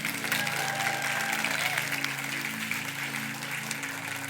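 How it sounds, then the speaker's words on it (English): A church congregation applauds at a First Holy Communion, steady clapping filling the room at moderate level for several seconds with a faint murmur of voices underneath. "Can we give them a round of applause?"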